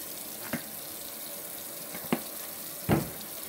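Hands being washed under a running kitchen tap before cooking, with a steady broadband rush of water and a few splashy bursts as the hands move through the stream, close and with no talking.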